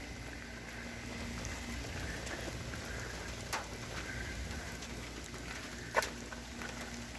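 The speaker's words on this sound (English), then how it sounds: "we just needed that rain to cool things down" Rain falls around a pickup truck as a soft, faint, steady patter, broken by a couple of sharper drip taps.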